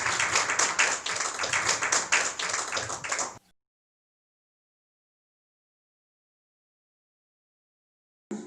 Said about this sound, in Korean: 우리 박정희 작가님 뜨거운 박수로 맞이해 주시기 바랍니다.